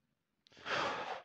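A single slow, audible breath, likely an exhale, rises after a brief quiet pause during a French guided meditation and fades gently; it is close and soft, with no words spoken over it.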